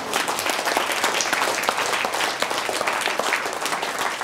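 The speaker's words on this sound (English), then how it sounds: "Wow, applause." Audience clapping at a business marketing talk, loud, close and dense, with a steady rhythm of many hands that holds at full strength the whole way through.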